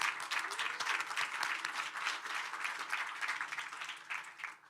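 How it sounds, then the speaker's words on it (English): An audience at a Food Day event at the UN General Assembly gives a warm round of applause, many hands clapping in a dense, steady patter that slowly fades toward the end. "Let's give him another warm round of applause"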